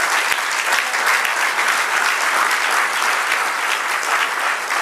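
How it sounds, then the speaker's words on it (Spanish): A church congregation breaks into sustained applause after a sermon, a dense, steady wash of many hands clapping at full volume for the whole stretch, with no voices standing out. "Denle un aplauso al Señor."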